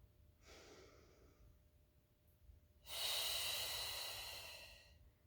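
Two audible breaths during a mat Pilates class: a soft inhale, a pause, then a longer, louder, airy exhale that gradually fades, close and clear.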